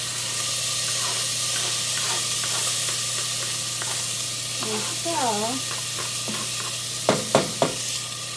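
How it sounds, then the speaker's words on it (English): Tomatoes sizzle steadily in a pan of golden-browned rice for Mexican-style rice, with a constant frying hiss, a brief voice midway and a few sharp utensil clinks near the end. "sound of sizzling tomatoes in there."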